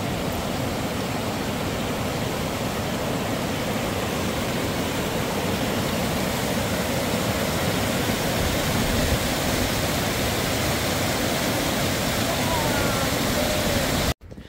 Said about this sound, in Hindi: हमारी किस्मत में दोस्तों आज ऐसे ही झरने रहेंगे, ऐसी नदियाँ रहेंगी